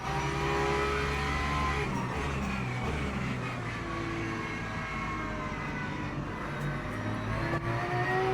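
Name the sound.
race cars at Spa in Le Mans Ultimate video game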